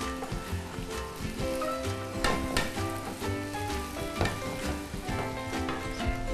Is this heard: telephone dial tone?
no